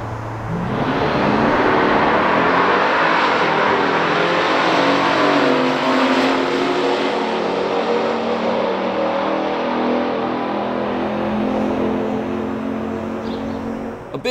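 A 1970 Pontiac GTO Judge and a 1969 Dodge Super Bee in a factory stock drag race, V8 engines roaring loud and close as they launch, the rising revs sweeping through gear changes for about fourteen seconds.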